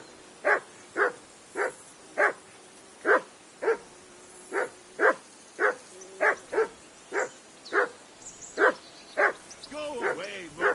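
Dog in the medieval video game Kingdom Come: Deliverance II barking in a steady series of about fifteen sharp, evenly spaced barks at moderate distance, ending with a short whimpering yelp.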